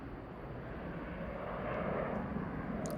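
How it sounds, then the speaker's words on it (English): Steady broadband roar of an airplane passing overhead about 1.5 miles from an airport at a disc golf course, swelling slightly toward the middle and staying fairly distant, with no voices. "Don't mind the airplane noise."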